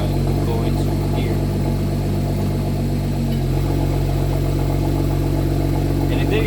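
A BMW 435i engine runs steadily after a transmission fluid refill, a continuous mid-pitched idle hum with a slight shift partway through, close and loud throughout.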